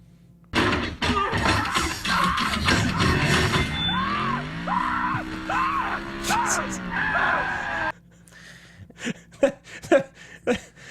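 In a Transformers: Dark of the Moon movie scene, Sam lets out a drawn-out, wavering scream over loud action noise, with car and impact sounds before it and a sparser stretch of thuds after.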